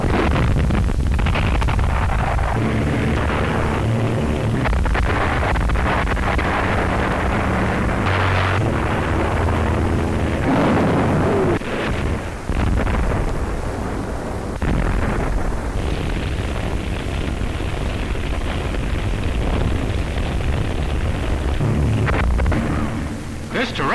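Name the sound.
bombardment explosions in Shanghai, newsreel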